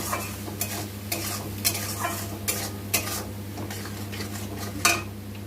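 A utensil scrapes and knocks against a pan while salt, turmeric and cumin powder are stirred in, a roughly regular series of clinks and scrapes over a steady low frying sizzle.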